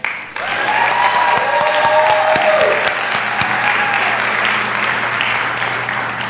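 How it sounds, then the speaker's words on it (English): At an international festival, an audience applauds fashion show participants with loud, dense clapping that starts abruptly and holds steady. Cheers and whoops ring out over it early on. "Let's give another round of applause to thank all our fashion show participants tonight."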